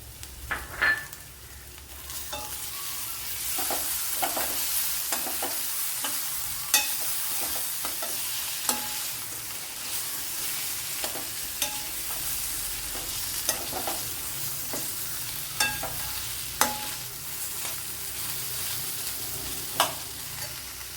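Tomatoes frying in a hot pan while cooking a drumstick (moringa) recipe, a steady loud sizzle running throughout, broken by sharp scraping stirs and clinks of a spoon against the pan.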